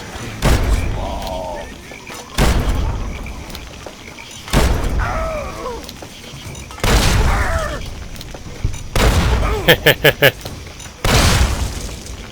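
Bomb explosions in the Fallout Tale of Two Wastelands game, a swamp setting: several loud booming blasts at irregular intervals across the stretch, with short bursts of sharp crackling between them and a voice talking throughout.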